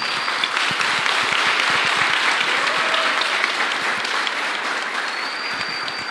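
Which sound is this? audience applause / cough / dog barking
audience applause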